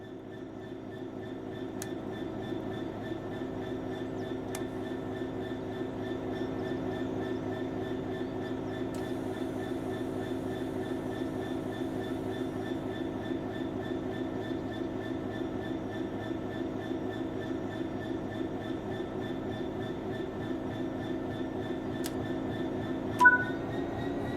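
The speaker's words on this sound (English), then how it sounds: "Apply some throttle to get the train moving." A diesel locomotive's engine in Train Sim World 5 drones steadily as it gets underway, a constant low rumble with faint clicks and a brief clank near the end.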